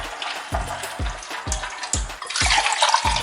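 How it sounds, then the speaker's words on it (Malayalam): Tap water splashes while a pressure cooker lid is rinsed and cleaned under the pipe, with regular rhythmic knocks as the lid is moved through the stream, close and fairly loud, with the running water growing fuller toward the end. "എന്നിട്ട് നമുക്ക് വെള്ളം ഒഴിച്ച്, അല്ലെങ്കിൽ പൈപ്പിൻ്റെ ചുവട്ടിൽ കാണിച്ച് ഇതുപോലെ ക്ലീൻ ചെയ്യണം"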